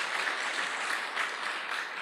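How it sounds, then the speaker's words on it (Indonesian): Audience applause at an Indonesian network-marketing seminar, a steady dense wash of clapping from a crowd, fairly loud and continuous with no talking over it. "Aplaus sekali lagi buat Anda Bapak Ibu."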